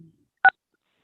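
A single short telephone keypad tone beeps once, sharp and clear, as star six is pressed on a phone line to unmute during a remote Senate committee hearing, surrounded by silence.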